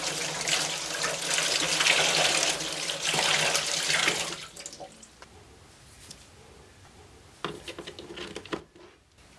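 Water pours in a steady hissing stream into the front of an AIRCARE humidifier for about four seconds, then stops, leaving a few faint drips and handling clunks.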